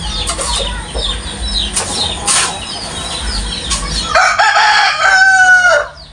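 Hens cluck and squawk close by, then a rooster lets out a loud, drawn-out crow near the end.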